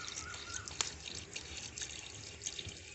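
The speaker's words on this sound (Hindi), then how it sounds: "अब मैं इसमें थोड़ा सा पानी ऐड करूँगी" Water is poured into a pan of cooked beef nalli korma, giving soft, quiet trickling with scattered drips and faint sizzle. No voices are heard.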